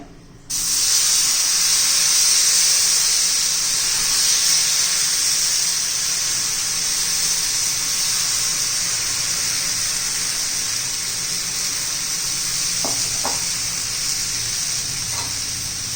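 Jowar flour batter spread thinly on a very hot griddle bursts into a loud, continuous sizzling hiss that holds steady for many seconds, with a few faint taps near the end.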